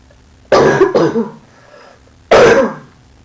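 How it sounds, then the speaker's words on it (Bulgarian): Three harsh coughs close to the microphone: two in quick succession, then a single one after a pause. "Съжалявам, че кашлям"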